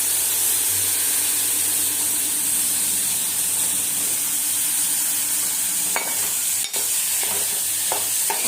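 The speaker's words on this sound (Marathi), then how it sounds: "चांगली भाजी परतून घ्यायची." Vegetables sautéing in Malvani masala: a loud, continuous close-up sizzle and hiss in a hot pan, steady throughout, with a few brief scrapes of stirring near the end.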